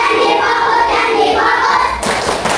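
Children in a classroom lesson on the pillars of Islam chant together while clapping in rhythm, their voices loud and close, ending with a sharp burst of claps.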